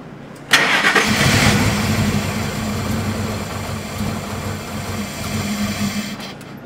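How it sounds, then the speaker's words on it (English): A Lightning car engine cranks and refuses to start after a new fuel pump install. A sharp click is followed by several seconds of loud, steady, close mechanical churning. "it's not wanting to start after we put the fuel pump in there"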